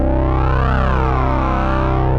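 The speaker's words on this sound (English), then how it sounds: "I've got the MXR bass synth with the red preset number 2 selected" An MXR Bass Synth pedal on red preset 2 plays a thick, distorted synth bass line with sustained, buzzing notes and slow pitch sweeps, loud and unbroken.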